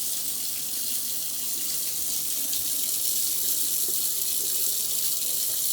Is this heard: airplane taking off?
no